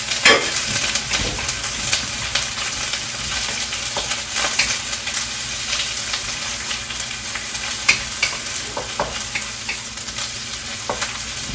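Onion sautéing in oil in a pan for Pad Thai, a steady bright sizzle with frequent stirring scrapes and small pops throughout, close and continuous with no talking.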